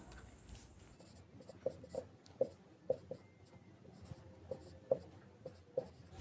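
Marker or chalk writing on a board during a Hindi grammar lesson on nouns, heard alone as a string of short tapping strokes and scratchy scrawls at close range, with no talking.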